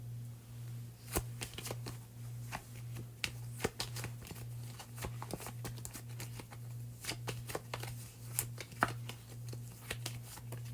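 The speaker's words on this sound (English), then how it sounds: "Or I'll shuffle like this so you guys can see the signs and I can't." Tarot cards are shuffled by hand in quick, repeated bursts of soft riffling and slapping, fairly faint and close, over a low constant hum with no talking.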